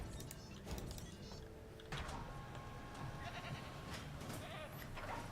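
Goats bleat in the Jurassic World video game, a few soft calls standing out over a steady hum of in-game ambience and music, with no talk over them.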